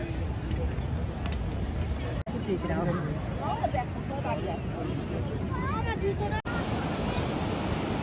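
Sea waves rolling onto the beach at Puri, a constant broad wash of surf and wind beneath nearby crowd chatter and voices talking, with the babble of a seaside gathering throughout.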